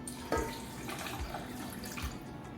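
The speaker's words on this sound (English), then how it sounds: "we will take our 1 cup of warm water and put it with our egg mixture" A cup of warm water poured into a bowl of egg mixture, a soft steady splashing stream at close range, quiet and continuous.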